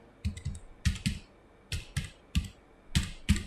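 A percentage value is typed on a computer keyboard: about a dozen crisp keystrokes in quick pairs and short bursts, close and clear, in a quiet room.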